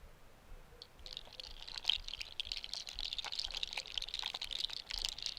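A voice-and-hand imitation of a rain of seeds bursting from a giant exploding gourd, heard as a faint dense patter of soft clicks and rustles that thickens and continues steadily.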